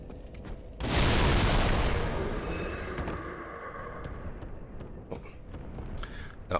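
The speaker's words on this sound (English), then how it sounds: "this is where we use our fire bombs" A fire bomb bursts in Dark Souls 3 at the High Wall of Lothric, a sudden loud roaring blast that swells and then slowly fades into a rumbling tail with small crackles.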